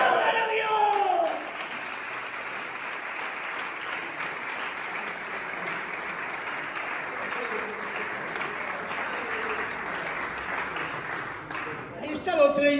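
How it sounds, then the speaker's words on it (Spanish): A church congregation bursts into sustained applause that fills the room evenly for about ten seconds. A preacher's raised voice is heard briefly at the start and again as the clapping fades. "¡Aplaudan a Dios!"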